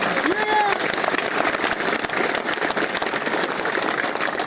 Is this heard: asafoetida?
no